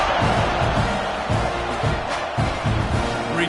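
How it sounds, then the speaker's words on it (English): A stadium crowd in a college football video game cheers and roars steadily, a loud dense wash of voices with rhythmic surges, kept up through the whole stretch. "this crowd is feeling themselves after that last drive"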